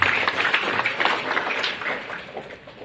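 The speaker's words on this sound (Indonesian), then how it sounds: "Kita kasih aplaus untuk Buya Hamka," An audience at a Sunday-morning Islamic study gathering in a Muhammadiyah hall applauds for Buya Hamka: steady, dense clapping from many hands that holds for a few seconds, then gently thins toward the end.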